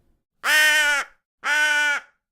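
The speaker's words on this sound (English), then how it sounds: "So here, for example, we have a common crow." A common crow gives two loud, harsh caws, each about half a second long and separated by a brief pause, recorded close and clean against silence.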